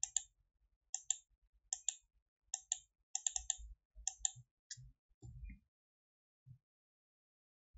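Computer keyboard typing and mouse clicks, with crisp, evenly paced bursts of keystrokes and clicks close by in an otherwise quiet room, then a few soft thumps at the end.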